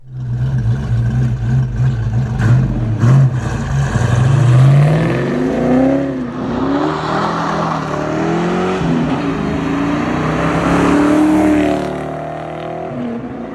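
A loud, throaty Fox Body Ford Mustang exhaust with Mac mufflers burbles at idle, then revs up and rises in pitch before settling back, close and continuous.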